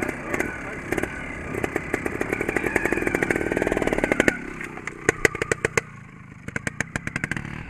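A trials motorcycle sputters and catches after a kick-start, its small engine popping in rapid uneven bursts close by, revving briefly before settling into a ragged idle.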